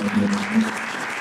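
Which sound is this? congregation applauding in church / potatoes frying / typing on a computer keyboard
congregation applauding in church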